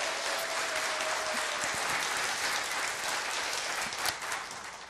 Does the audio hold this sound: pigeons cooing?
no